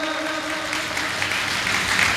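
An audience at a Hindi poetry recital claps in a steady, dense wash of applause, moderately loud and continuous throughout.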